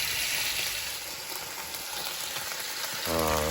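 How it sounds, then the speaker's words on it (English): Scallops sizzle in a hot skillet with a steady, loud frying hiss that fills the clip, and a voice starts speaking just at the end. "so my scallops are sizzling there"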